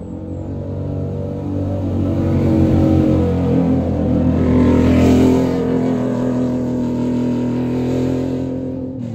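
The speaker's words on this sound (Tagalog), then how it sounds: "Dalawang motor guys na nagsunod guys." Engines roar past, swelling to a peak mid-way and fading, like motorcycles passing close by one after another.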